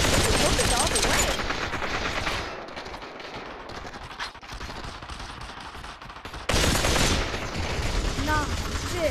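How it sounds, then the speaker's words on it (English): Gunfire in the VR shooter Population ONE: loud, dense bursts of rapid shots that ease to a lower rumble and then surge again near the end, with some talking mixed in. "Are you shooting me when you're looking the other way?"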